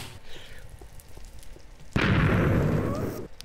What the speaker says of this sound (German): Wow, rechte Bombe, Mann.